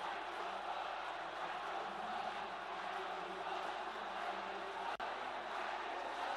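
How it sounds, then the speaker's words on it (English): A large arena crowd at an esports final, a steady loud roar of many voices chanting and cheering together, continuous and dense throughout with one brief dropout near the end. "Crowd getting heated up,"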